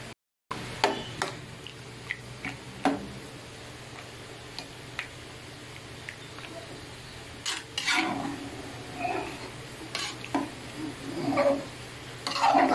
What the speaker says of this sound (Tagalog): Halo ng halo kasi yung mani ay madaling masunog